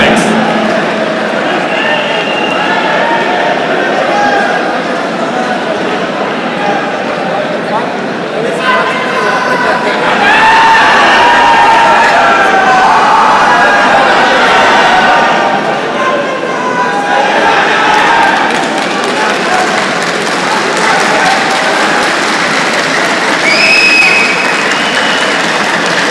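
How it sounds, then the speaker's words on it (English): Crowd applause and cheering at a university sports gala closing ceremony as the winning team is announced, a steady broad wash of clapping lasting throughout, with a voice speaking over it in places. "So please a big round of applause for the winner team,"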